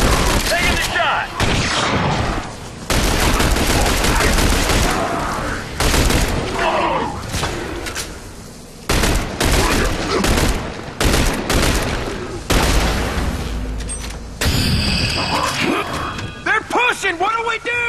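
Dense gunfire and blasts in the video game The Bureau: XCOM Declassified, loud repeated volleys and crashes in bursts with short lulls, under shouted squad commands.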